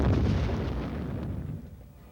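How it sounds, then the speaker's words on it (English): Soldiers in field training fire their weapons with blank ammunition, a dense, continuous roar of overlapping gunfire booms that stays loud and close throughout, easing only slightly toward the end. "trainees fire their weapons using blank ammunition"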